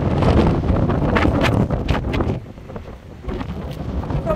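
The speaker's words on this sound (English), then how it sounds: "Oh my god, it is so windy" Strong wind buffets the microphone in loud, roaring gusts, easing briefly midway before picking up again.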